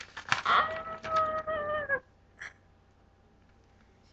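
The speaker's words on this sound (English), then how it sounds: "Sorry, this is my cat over here." A pet cat gives a series of loud, close, drawn-out meows over two seconds, then a short faint sound follows before quiet.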